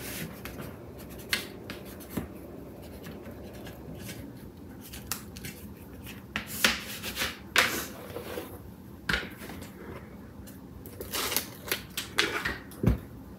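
Paper being burnished down onto a three-ring scrapbook album binder cover, with irregular dry rubbing and scraping strokes and sharp taps that grow denser toward the end, close and fairly quiet.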